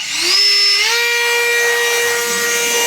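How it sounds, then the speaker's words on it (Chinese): A leaf blower's motor spins up with a rising whine, then holds a loud, steady high-pitched blowing roar. "它是吹叶机"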